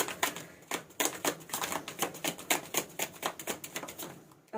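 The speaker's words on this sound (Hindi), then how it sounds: "चलिए एक कप और एक कार्ड और निकालती हूँ" Tarot cards are shuffled and drawn from a deck, a quick run of soft papery flicks and riffles in an uneven rhythm, close and quiet.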